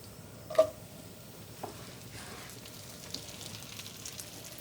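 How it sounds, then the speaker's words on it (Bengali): Small cut pieces of naan bread frying in ghee, a soft low sizzle with a few light pops, one sharper at the start, faint and steady with no talk. "নান রুটিকে আমরা একটু পুষ্টি ঘি দিয়ে ভেজে নিচ্ছি"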